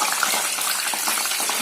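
White beans are dropped into very hot oil while frying a protein nimko snack, giving a steady, close, hissing sizzle that runs without a break and with no talk over it.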